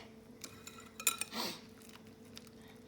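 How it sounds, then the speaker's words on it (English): Spinach quiche filling of egg and heavy cream being mixed in a dish, faint clinks and taps of a utensil on the dish, a short rush of sloshing in the middle, no speech. "Mix with that egg."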